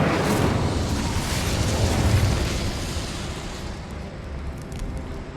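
The Incendio fire spell in Hogwarts Legacy bursts out as a loud, roaring whoosh of flame that fills the first seconds, then slowly fades into a rumbling tail.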